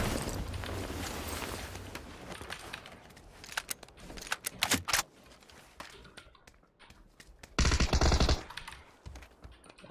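Rapid automatic Tommy gun fire in the PC game PUBG, loud bursts of fast shots in several rattling volleys with a heavy final burst near the end, alongside other scattered gunfire.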